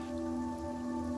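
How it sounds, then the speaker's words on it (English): Steady rain falls through a tabletop roleplay scene as an even, continuous hiss, layered over a sustained tonal drone, with no voices. "So you're a little concerned as to just how much rain will come down."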